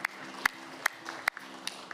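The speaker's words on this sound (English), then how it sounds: "Can we give a round of applause for that?" Applause at an honorary certificates ceremony: a small audience claps in sparse, evenly spaced sharp claps, moderately close, with faint murmuring underneath.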